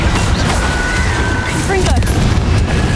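Bombarda spell blasts in Hogwarts Legacy: loud booming bursts and crashes in dense game combat, with voices and constant action noise around them.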